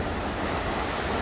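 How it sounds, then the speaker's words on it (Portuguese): A tall waterfall on the Rio Blanco at Hornopirén in Patagonia roars as a steady, dense rush of water, continuous and fairly close, with no voices over it. "cachoeira do Rio Branco aqui em Hornopirén."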